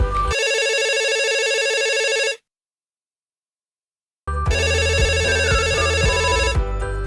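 A telephone ringing with a bright electronic ringtone, a burst of about two seconds, a pause of silence, then a second longer ring with a low tonal backing, close and clear with no talking.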